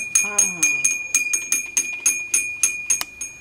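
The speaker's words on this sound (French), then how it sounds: "Je peux sonner les cloches, hein?" Small bells ring in a quick, steady series of about a dozen bright strikes at close range, with a person's voice briefly heard underneath at the start, recorded in Gaspésie, Canada.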